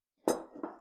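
Carrot pieces dropped into a glass canning jar while preparing homemade soup: two quick, close clinks with a short scattering tumble after each, fairly quiet, with no talking.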